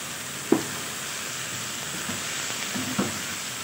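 Goat liver sizzles steadily in a hot pan as soy sauce and chili sauce go in, with a continuous frying hiss broken by a couple of soft clinks from stirring.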